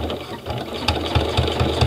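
A sewing machine topstitches faux leather with a stitching guide, running in a steady mechanical whir with regular low pulses that grow stronger after the first second, no talk over it.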